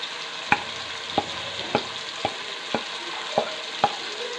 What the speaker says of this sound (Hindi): सारे मसाले हम अपने इसके अंदर डालेंगे